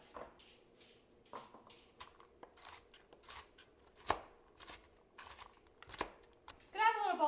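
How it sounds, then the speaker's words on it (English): A knife chops carrots on a cutting board in a kitchen, giving a steady series of close, crisp taps and crunches, with quiet voices in the background and a brief spoken phrase at the end. "We're cutting carrots."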